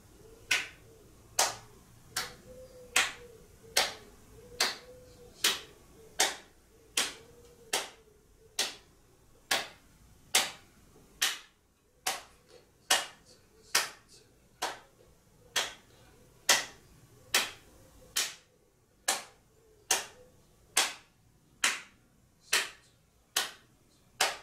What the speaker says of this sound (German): Wir beginnen mit Klatschen.